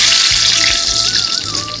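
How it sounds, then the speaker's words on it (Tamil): Sliced big onions drop into hot oil for a home-made seeraga samba chicken biryani, producing a loud close crackling sizzle that runs throughout, with no talking. "அந்த பெரிய வெங்காயத்தை போட்டுக்கலாம்."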